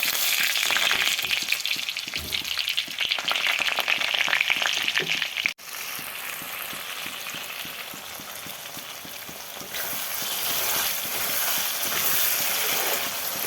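Potatoes fry in hot oil that was used for frying eggs, with bay leaf and cumin seeds tempered in it, giving a loud, steady close sizzle and crackle, with a brief break partway through and no talking.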